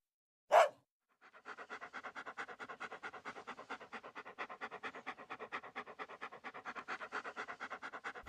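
A dog panting rapidly and rhythmically, close by, after a brief sharp sound at the start.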